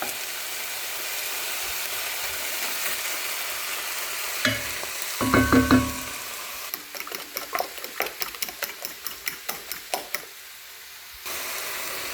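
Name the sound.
food frying in a pan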